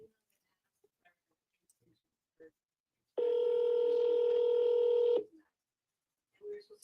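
A telephone call to a real estate agent produces one steady ring tone lasting about two seconds, surrounded by quiet clicks and near-silence.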